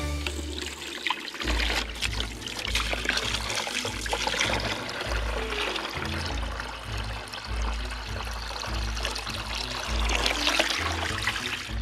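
Water pours and trickles steadily into a Tonka toy excavator, a continuous close splashing stream with a low rumbling undertone that runs for the whole stretch.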